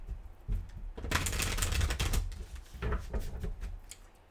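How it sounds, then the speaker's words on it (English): A deck of reading cards is shuffled by hand several times, giving loud riffling bursts of papery flutter close by, with a short pause and a softer final shuffle; no one speaks. "Let me give it a couple more shuffles."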